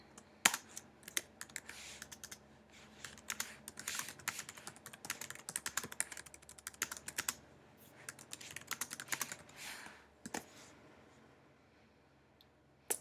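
Keys clatter on a computer keyboard in quick irregular bursts of clicks with brief pauses, close and fairly quiet, with no one speaking.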